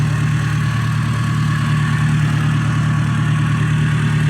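A car engine idles steadily and loudly at close range during a workshop inspection for oil leaks, radiator water and abnormal engine noises, a constant even hum with no variation.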